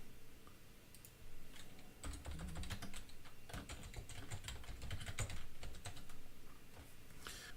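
Someone typing a server name on a computer keyboard, a close, quiet run of rapid key clicks in irregular bursts with brief pauses, no talk.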